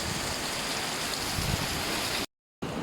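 Steady rain pours down at a tropical island beach resort in Guimaras, Philippines, a dense, even hiss of drops close by that cuts out abruptly for a moment near the end before resuming.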